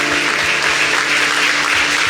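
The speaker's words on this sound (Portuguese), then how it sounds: "Convido você agora a aplaudir com força a palavra de Deus." A church congregation applauding loudly, a dense, sustained roar of many hands clapping at once, steady and full throughout with no break.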